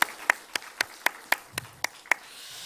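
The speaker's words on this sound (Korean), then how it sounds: "다시 한번 우리 하나님 영광의 박수 올리겠습니다" A few people clapping in a church congregation during a Sunday worship service, about nine separate claps in a loose, unsteady rhythm, faint and sparse rather than full applause.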